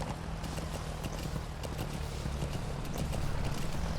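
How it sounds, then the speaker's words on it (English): Horse hooves clip-clop steadily in Metal Gear Solid 5, a saddled white horse out in the wilderness, the rhythmic hoofbeats close and continuous over a low rumbling game backdrop, with no talk. "Yeah, just a wild horse, you know, just a white horse with the saddle"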